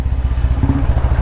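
A repaired motorbike engine runs steadily at idle with a close, loud, rapid rhythmic thumping and a mechanical clatter, and no voices.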